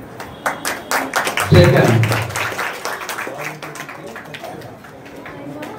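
An audience claps and applauds at a school naat competition at Allama Iqbal High School, a short burst of clapping swelling then fading while an announcer speaks over it.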